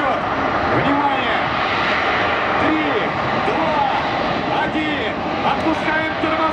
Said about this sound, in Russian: Су-30 выводит двигатели на максимальный режим.